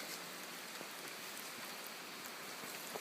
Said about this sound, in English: You can probably still hear the relaxing sounds of rain droplets falling off the trees